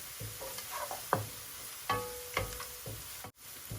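Chicken and onion fry in a pan with a soft sizzle, broken by several scraping stirs and clinks of a utensil against the pan, close and fairly quiet.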